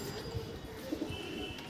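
Madras pigeons, including a Jiria Madras, cooing softly in a loft, a few low coos rising over a steady background hum.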